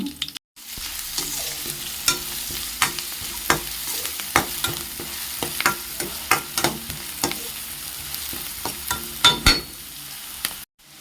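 Mustard seeds and curry leaves fry in hot oil in a pan, giving a steady close sizzle with scattered sharp pops and crackles and occasional stirring scrapes, and no voices.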